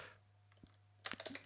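Soft computer keyboard typing, a handful of quick faint key clicks near the end of a quiet moment, with a low background hum.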